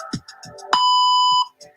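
An exercise timer gives one clear sustained electronic beep of about two-thirds of a second, loud and close, between short bits of background sound.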